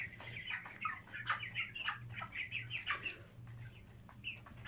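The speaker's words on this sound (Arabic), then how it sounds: "دول الفراخ البلدي بتاعتنا" Domestic local chickens cluck and chatter in a busy, fairly quiet flock, with overlapping short calls and no voices.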